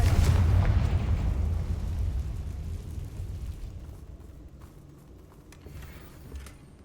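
A Confringo spell in Hogwarts Legacy detonates in a loud, deep blast that rolls and slowly fades over several seconds into a rumbling tail with faint crackles.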